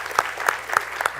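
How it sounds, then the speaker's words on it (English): An audience at a Shark Tank-style student event claps in a steady, moderately sparse rhythm of sharp, distinct claps, with no talking. "Give her a round of applause"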